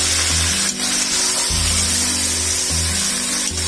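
Chicken frying in hot oil in a home kitchen, a loud, steady broadband sizzle that runs unbroken throughout, with low tonal music underneath.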